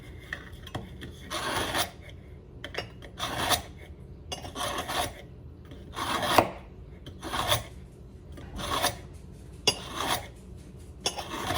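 A kitchen knife is sharpened with about ten rasping, scraping strokes in a steady back-and-forth rhythm. The strokes are close and clear, with brief pauses between them and no talking.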